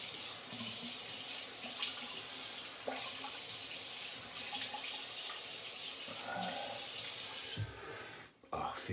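Steady water running from a tap into a sink while rinsing after a shave, a continuous close hiss and splash with brief shifts in flow and a short break near the end.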